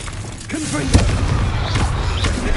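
Confringo blasting spell explosions from Hogwarts Legacy, a dense run of booming bursts and crackling impacts over steady game noise and music, with a voice calling out spell names throughout.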